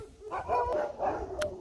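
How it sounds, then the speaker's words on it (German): Huskies at a husky farm in Finnish Lapland bark and yip in short overlapping bursts, fairly distant and moderate in level, several dogs calling across a wide kennel area. "Oh, ich höre schon die Huskies."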